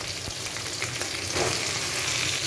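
Potatoes and pointed gourd fry with tomato and ginger in hot oil tempered with nigella seeds and green chili, giving a loud, steady sizzle with a brief surge of crackling midway, with no voices.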